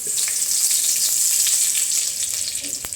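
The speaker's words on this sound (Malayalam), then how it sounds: "ചട്ടി അടുപ്പത്ത് വെച്ച് എണ്ണ ഒഴിച്ച് ഇനി കുറച്ച് കടുകിട്ട് കൊടുക്കാം കടുകിട്ട് ഇനി കുറച്ച് കറിവേപ്പില കൊടുക്കാം" Mustard seeds and curry leaves hit hot oil in a pan for a simple sambar, giving a steady, bright sizzle with scattered crackles and pops, close and constant throughout.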